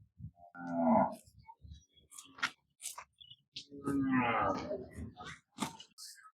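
Calves at the Erragadda calf market moo in two drawn-out calls, separated by scattered clicks, shuffling and market bustle, with voices nearby.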